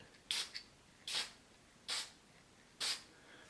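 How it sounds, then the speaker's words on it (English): A spray bottle mists water over image transfer paper in four short, soft hissing bursts spaced about a second apart, close and quiet with no talk. "I'm just going to spray in the air in the direction of the image"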